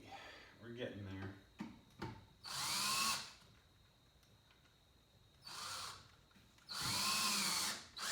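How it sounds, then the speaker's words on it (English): A cordless drill with a battery running low drives screws while rebuilding a saw table, giving several short, loud whirring bursts separated by quiet pauses, with talk and handling noise at the start. "As you can hear, my drill is winding down"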